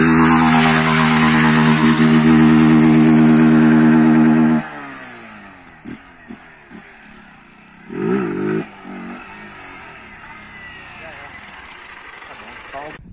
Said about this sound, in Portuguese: Eu vou passar um pouco aqui, rapaziada, pra vocês verem a moto nova andando